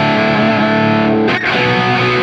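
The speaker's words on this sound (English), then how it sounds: "Let's cut the mids out." A distorted electric guitar runs through a ToneX amp model with the mids scooped and the treble boosted, giving a dense, buzzy sustained chord with a brief strum change midway. It plays loud and alone.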